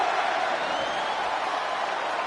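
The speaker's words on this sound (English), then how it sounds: "Look at that crowd getting into it." Arena crowd in the WWE 2K22 wrestling video game roaring and cheering steadily throughout, a dense continuous wash of noise with no clear breaks, heard alone at moderate level.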